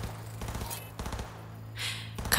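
Gunfire in Cyberpunk 2077: Phantom Liberty, several sharp shots spaced out over a couple of seconds, punchy and close, mixed with game ambience and effects.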